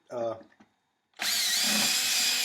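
A hand drill boring string and ferrule holes in a guitar body bursts into a loud, steady whine after a brief spoken voice and a moment of silence.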